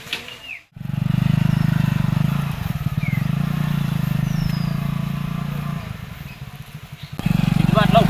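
A motorcycle engine hums at a steady, fairly loud drone while ridden, briefly dropping away near the start and again near the end. Voices talk over it.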